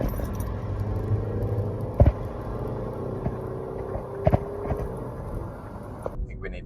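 Low, steady engine drone and road rumble from a remapped diesel hot hatch on the move, running under continuous talking inside the car, with a few light knocks and rattles.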